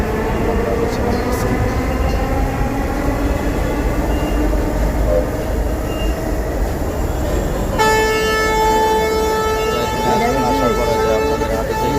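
Inside a Dhaka metro rail train, a steady low rumble of the carriage gives way to a sustained tonal electronic chime or warning sound in the second half.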